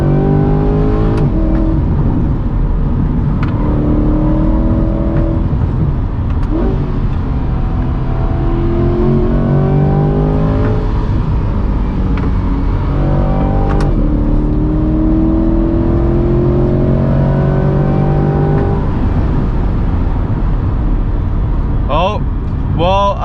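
Corvette C8 engine revving hard toward redline on a track, a loud sustained rising roar with repeated climbing sweeps through the gears, heard from inside the car under ongoing talk.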